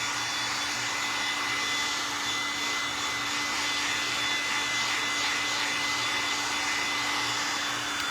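A hair dryer blowing on a peridot green resin tray, a steady, close whirring roar with a constant high whine, running unbroken without talk.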